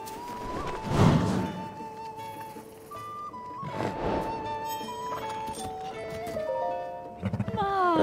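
Golden horse in the video game Zelda: Tears of the Kingdom, heard as horse neighs and hoof clip-clops mixed with game music, with a louder burst near the start and another midway.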